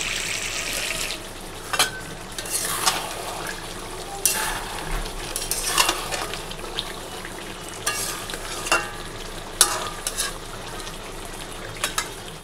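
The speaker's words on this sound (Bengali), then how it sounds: "আর এখানে মাংস কষা হচ্ছে" Meat is slowly sautéed into kosha in a pan over a quiet continuous sizzle, broken by repeated bursts of spatula scraping and stirring at irregular intervals, no talking.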